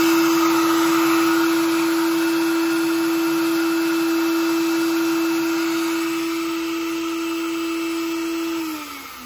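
A CNC spindle runs at 10,000 RPM with a steady, loud, high electric whine and a constant pitch, then spins down and fades near the end.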